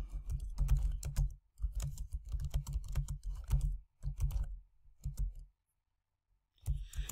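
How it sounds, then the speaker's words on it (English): Bursts of rapid keystrokes typed on a computer keyboard into Microsoft Word, close and clear, with short pauses between phrases and a longer silent gap near the end, with no voices. "I'll just type in a couple sentences"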